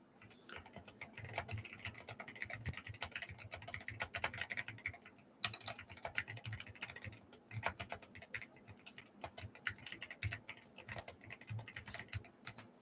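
Steady typing on a keyboard as a text prompt is entered into an AI image generator, continuous quick key clicks close by with brief pauses, no talking.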